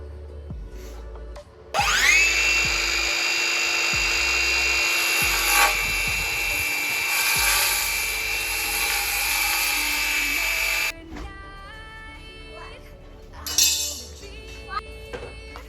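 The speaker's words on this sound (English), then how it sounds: "I am putting my saw to a 45-degree angle to make the joints" A power saw cuts wood at a 45-degree angle for a shelf joint: a loud, steady, high whine runs for about nine seconds, then stops, followed by softer clunks and handling noise.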